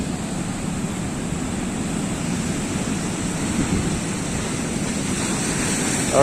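Rough sea waves crash onto Shankarpur beach in the rain, making a steady close roar of surf mixed with wind noise that never lets up.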